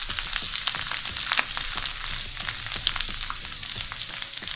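Spices and turmeric sizzle and crackle steadily in hot oil for a tarka over whole masoor dal, a dense, loud frying hiss with popping bursts and no talk.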